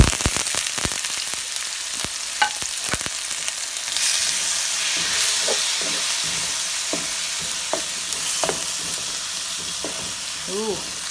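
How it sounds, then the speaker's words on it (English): Garlic, diced peppers, onions and shredded fresh carrots hit a hot pan for pork and lobster stir-fried rice, sizzling loudly with a steady hiss and scattered sharp clatters of stirring throughout. "We're going in with the little smorgasbord of garlic, all my peppers and onions diced up over there, and I have shredded fresh carrots going in."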